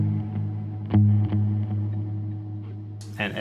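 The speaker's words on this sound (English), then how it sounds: "The delay on its own would sound like this." An electric guitar on an ambient post-rock pedalboard plays through a plain delay effect. A brief, moderately loud phrase of notes repeats and trails off, with no talk over it.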